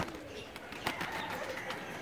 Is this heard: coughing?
no